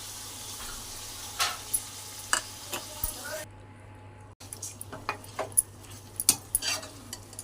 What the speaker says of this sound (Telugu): రెండు నిమిషాలు బాగా కలుపుకోవాలి.